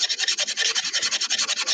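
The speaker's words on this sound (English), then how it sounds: "I'm just going to sand the whole distance here" Rapid, rhythmic rasping of sandpaper rubbed back and forth on wood by hand, close and loud, about a dozen strokes.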